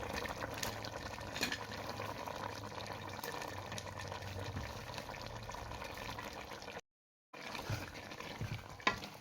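Chopped onion, pepper and carrot go into a pot of cooking chicken gizzards, giving soft stirring, bubbling and faint sizzling that continue steadily, broken by a short gap of silence.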